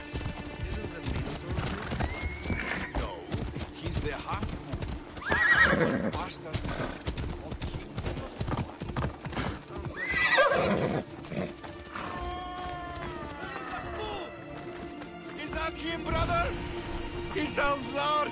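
Horses in a video game clip-clop over ground, with loud neighs and whinnies breaking out twice. Voices talk over the hoofbeats.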